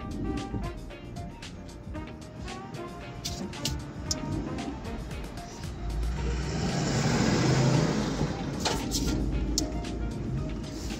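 Steady road traffic rumbles around a car stuck in a jam during a school run, a continuous broadband hum that swells louder midway with passing vehicles.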